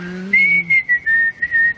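A lone whistler carries a short melodic phrase from Keane's "Outcast," a few clear sustained tones with small pitch steps and brief gaps, close and fairly quiet with no talking.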